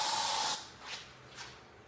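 A Real-Kill fogger sprays insecticide against a roach infestation inside a house: a loud, steady aerosol hiss lasting about half a second, cut off sharply and followed by faint residual hissing.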